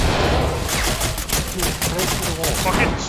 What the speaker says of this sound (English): they're shooting us through the wall